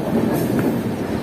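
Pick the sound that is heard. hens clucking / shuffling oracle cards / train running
train running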